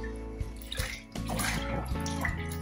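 A liquid IMO microorganism mix is stirred in a fermenting container, giving a close, continuous sloshing and swirling of water with a few small splashes throughout.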